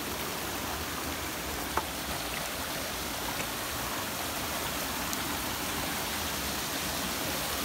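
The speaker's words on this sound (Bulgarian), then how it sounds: "Тук има поредния водопад" Waterfall on a mountain trout river, a steady broadband rush of falling water that fills the scene continuously and evenly, fairly close and alone without voices.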